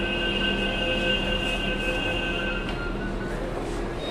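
Pune metro train standing at Sant Tukaram Nagar station, giving a steady, close rumble and hum with a faint high electrical whine running throughout, with no clear pauses.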